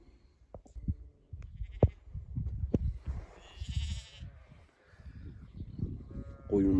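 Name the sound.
flock of sheep grazing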